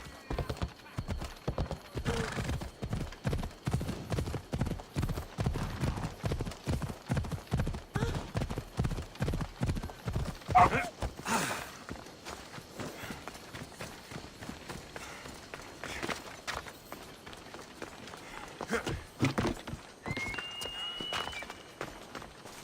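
A horse gallops in Assassin's Creed Odyssey gameplay, its hooves pounding in a fast, even rhythm that eases to a slower pace midway, with an occasional whinny over quiet game ambience.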